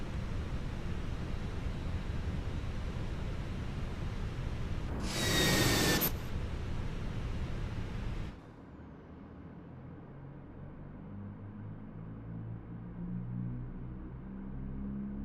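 Airliner jet engine starting in Microsoft Flight Simulator 2024: a steady, rumbling engine roar with a brief rising whine partway through, then the noise drops to a lower, quieter hum that continues to the end.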